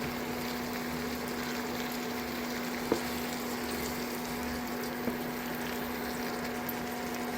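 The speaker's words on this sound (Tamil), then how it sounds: "தக்காளி போட்டுக்கலாம் உப்பு கொஞ்சம் போட்டுக்கலாம் அப்போ தான் சீக்கிரம் வதங்கும்" Chopped tomatoes with salt sauté in a pan for tomato pachadi, a steady, even sizzle and frying hiss running throughout at moderate level, with a couple of faint clicks and no speech.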